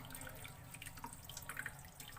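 Water from freshly made homemade paneer drains off as the curds are squeezed by hand, a faint, close trickle with scattered small drips and no voices.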